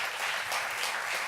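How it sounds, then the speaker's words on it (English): Brief, dense applause from an awards-ceremony audience clapping for the Speaker of the House of Commons, a steady wash of many hands heard at moderate distance. "Round of applause,"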